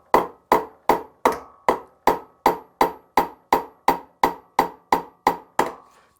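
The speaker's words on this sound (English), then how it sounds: "I'm just going to grab a regular hammer. I'm going to choke up on it and grab it right below the head here and just tap this over." A regular hammer, gripped just below the head, taps the teeth of a crosscut saw over at an angle to set them: about fifteen sharp, evenly spaced metallic strikes, close and loud, with no talking.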